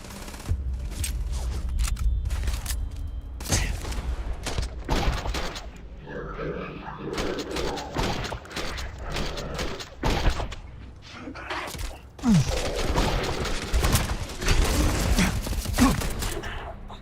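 Gunfire in the Starfield video game, played on extreme difficulty: bursts of rapid shots and dense fusillades recur throughout, loud and close, layered over a busy game soundscape with thumps and other action noise.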